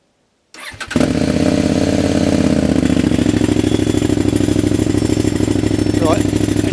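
A CF Moto Explore motorcycle engine fires up after a moment of silence, then runs steadily close by with a loud, rapid, throbbing idle.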